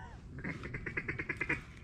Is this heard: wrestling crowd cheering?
no